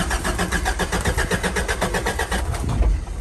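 Vehicle engine cranking over with a weak starter battery, a steady rapid rhythmic churning of the starter for about three seconds, fairly loud and close, with no talk over it.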